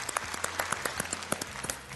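Studio audience applauding on a Bulgarian TV quiz show broadcast on BNT: dense, steady clapping that fills the whole moment at moderate loudness.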